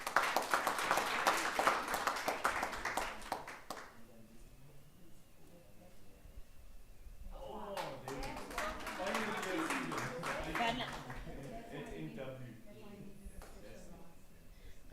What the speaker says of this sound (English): A round of applause for Morena.